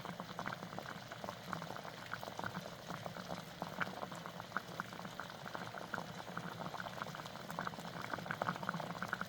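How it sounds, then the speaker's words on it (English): Water bubbling at a steady boil in a pot while a Polaris Xplorer 250 ATV thermostat is heat-tested, a faint continuous crackle and patter with no talk. "Okay, we're starting to boil."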